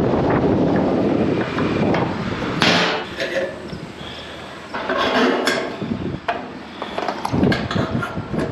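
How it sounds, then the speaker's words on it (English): Wind buffets a microphone outdoors beside a semi truck, a steady rumbling roar with gusts rising and falling throughout, mixed with occasional knocks and clatter nearby. "it's a little windy today"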